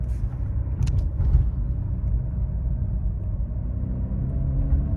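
Peugeot 308 VTi 120 petrol engine pulling up a slight incline: a low, steady rumble inside the car, with the engine note slowly rising and no talk.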